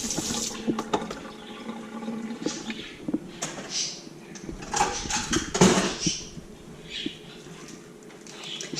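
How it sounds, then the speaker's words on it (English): Hands are rinsed under a running kitchen tap after handling fresh corn cobs, with a continuous splash of water and a few light clinks of dishes, close and moderately loud, and no one speaking. "Let me rinse my hands off"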